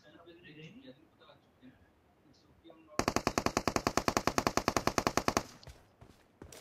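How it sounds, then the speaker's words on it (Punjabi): Loud, rapid automatic gunfire from PUBG Mobile erupts midway, a dense burst of evenly spaced shots lasting a couple of seconds, preceded by quieter game ambience and faint talk. "ਮੇਰੇ ਤੇ ਫਾਇਰਿੰਗ ਹੋ ਰਹੀ ਹੈ"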